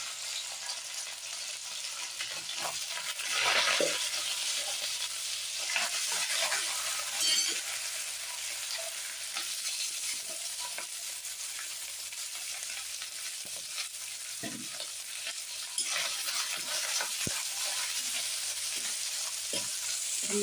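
Thinly sliced dried coconut roasting in oil in a pan for beef curry, a continuous close sizzle with scattered stirring scrapes and clicks throughout.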